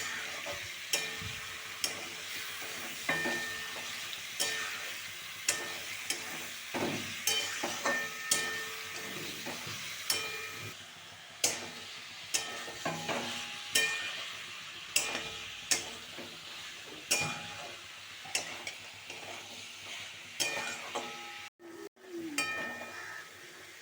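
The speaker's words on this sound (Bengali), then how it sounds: "এবার আগে থেকে মেরিনেট করা মাংস দিয়ে খুব ভালোভাবে কষাতে হবে।" Marinated duck meat is stirred and fried in a pan, with a steady sizzle broken by repeated scraping strokes and occasional clinks of the spoon against the metal, loud and close.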